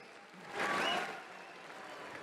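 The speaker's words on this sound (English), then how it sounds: "Give a big round of applause for all the amateurs that put on a show tonight." An audience at an MMA event applauds, a faint, steady clapping that swells briefly and then holds at a low, distant level, with no voices over it.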